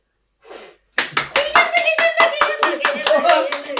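Hands clap in a quick, steady run at a family birthday celebration, loud and close, with a brief voice before the applause and a sung tone running underneath.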